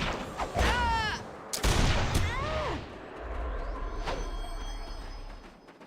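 Grenade blast in the online fantasy battle game Warhammer Online: Return of Reckoning, a couple of sharp bursts with whooshing spell effects, followed by a lingering rumble, close and fairly loud.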